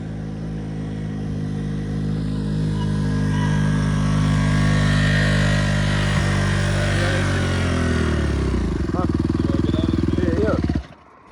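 A dirt bike engine revs steadily as the rider slips the clutch, a loud droning motor under brief voices that winds down and cuts off near the end.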